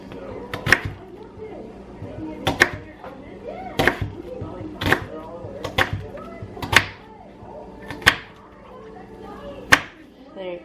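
Onions being chopped on a cutting board for a breakfast burrito: sharp, distinct knife strikes about once a second, close and clear, with a person talking faintly in between.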